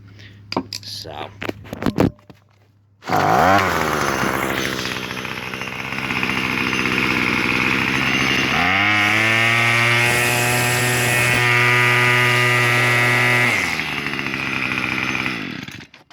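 A 2-cycle weedwacker engine starts after a high-speed carburetor adjustment, with a loud buzzing idle that revs up to a high steady whine, then drops back, running smoothly without bogging.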